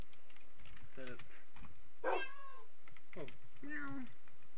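A game cat meows several times in a row, short rising and falling calls at moderate loudness, with light keyboard typing behind them.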